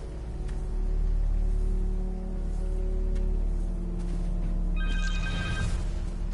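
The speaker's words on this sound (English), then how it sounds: "Her cell phone" A cell phone rings in the Spider-Man 2 video game, a repeating electronic ring rising near the end over a low droning game soundtrack, with no one talking.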